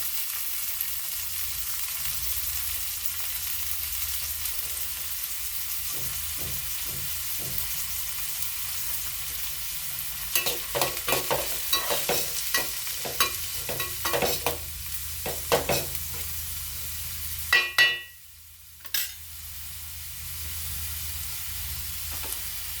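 Mutton curry fries in a pan while being stirred, a constant sizzle under repeated scraping strokes of a spoon against the pan, close up, with a brief lull near the end and no talking.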